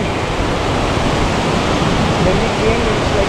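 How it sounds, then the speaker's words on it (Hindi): Overflowing water from Pocharam Dam rushes across a driveway, making a loud, continuous broadband roar with no breaks. "ये जहाँ पे आप अभी देख रहे हो ये पानी बहता हुआ"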